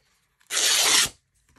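Fabric ripped by hand to make a deliberately tatty strip for a folio cover built from a discarded book jacket: a single loud, continuous tearing rasp lasting about half a second, close and alone in a quiet room.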